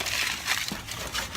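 Paper being crumpled up by hand, a close, crinkly rustle of crackling bursts that rises and falls over about a second and a half.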